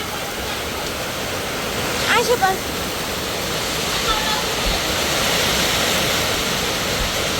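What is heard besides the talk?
rain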